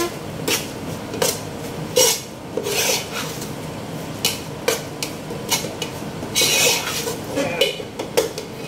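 A spoon scrapes and rasps against a pot in repeated strokes, stirring frying egusi (ground melon seeds), up close and fairly loud.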